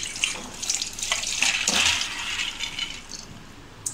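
Water is poured into a cooker over cowpeas and potatoes for a Malvani-style red cowpea usal, a close splashing gush that swells and tapers over a few seconds, with a faint clink at the end.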